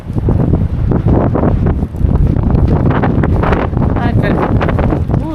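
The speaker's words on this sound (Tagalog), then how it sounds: "lakas ng hangin" Strong wind roars and buffets the microphone nonstop, a loud, dense rumble with gusts, while a voice speaks faintly underneath.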